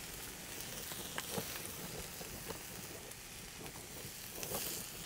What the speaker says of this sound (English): Listen to that sear.